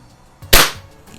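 A single sharp crack of a BSA Scorpion air rifle firing a pellet, close and loud, with a quick decay and a faint mechanical click just before it.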